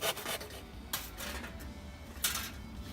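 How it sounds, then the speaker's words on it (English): A hand saw cuts pallet wood into lengths for kindling, with a few rasping strokes, two of them sharper and louder, over a quiet, scratchy background. "You need to saw the pieces up, first of all into lengths like that"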